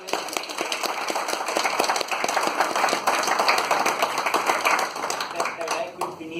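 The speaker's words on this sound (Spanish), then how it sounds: "un aplauso a..." An audience claps for a speaker after a bioinformatics talk, dense sustained applause with sharp individual claps running throughout, slightly thinning toward the end.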